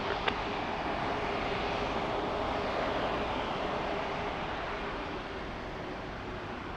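A fixed-wing airliner arriving on runway 25 Left at LAX, its engine noise a steady, broad roar that holds at an even level for several seconds, moderately distant, with no talk over it.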